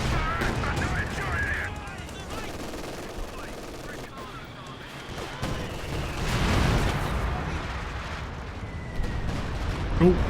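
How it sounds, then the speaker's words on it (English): A Stuka dive bomb strikes in Company of Heroes 2, with rolling heavy explosions and scattered gunfire mixing into a dense battle din under an excited commentator's voice. "Stuka dive bomb!"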